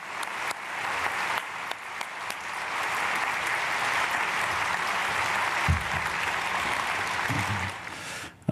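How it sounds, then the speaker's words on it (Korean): A church congregation at a Wednesday prayer service gives the pastor a warm welcome with sustained applause that fills the room evenly from start to finish. "박수로 맞이하겠습니다"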